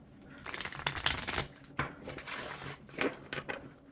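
Rapid riffling and soft slapping of a small-circle oracle card deck being shuffled close by, in several bursts with brief pauses.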